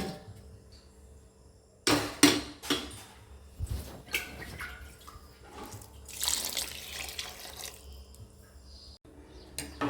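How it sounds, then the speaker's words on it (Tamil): Water poured into a cooking pot during home cooking after rice is added, heard as splashing bursts and running-water noise that swell and fade over several seconds, with quieter clatter between them. "தண்ணி ஊற்றிக்கலாம்"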